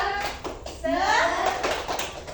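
Children in a fifth-grade classroom clap through a 'tepuk semangat' routine, a few sharp patterned claps near and loud, mixed with young voices chanting along.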